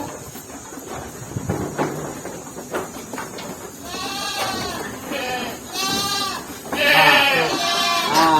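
Goats bleat repeatedly in a slatted goat farming unit, several overlapping calls growing louder and nearer in the second half over a steady barn background.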